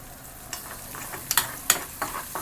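Turmeric frying in a little oil in a pan for a vada pav potato filling, a steady sizzle broken by several sharp metallic stirring clicks and scrapes, close and fairly loud, with no voices.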